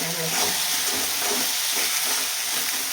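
Sabudana khichdi sizzling in a pan as it is stirred, a close, steady frying hiss with faint scraping from the stirring and no speech.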